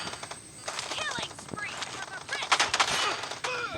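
Sniper rifle and automatic gunfire in a multiplayer shooter game: a fast run of sharp cracks and bursts, some overlapping, with a voice talking at points over the shots.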